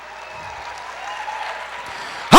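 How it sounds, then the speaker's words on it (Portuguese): A church congregation applauds during a worship service, a steady, moderately faint wash of clapping that holds for about two seconds before a sudden loud burst at the very end. "Aplauda o Senhor"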